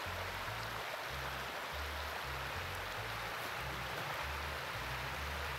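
Steady broadband rush of a river flowing past a forest trail, continuous and even, with a low rumbling undertone and no voices.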